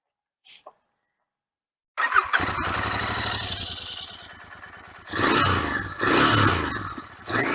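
After a moment of quiet, a 2022 Royal Enfield Interceptor 650 motorcycle with twin exhausts fires up and idles with a loud, throbbing rumble, then revs sharply twice close by.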